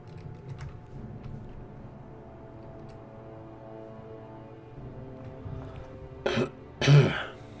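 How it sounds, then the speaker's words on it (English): Two sharp, loud throat-clearing coughs from someone with phlegm in the throat, arriving close together near the end after a quiet stretch of low background game audio. "Sorry, I'm coughing so much, guys. I got some phlegm in my throat."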